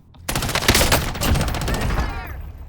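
An FFAR1 rifle in Call of Duty: Warzone fires a rapid automatic burst of sharp, closely spaced cracks, loud and near, continuing as one sustained stream before tailing off.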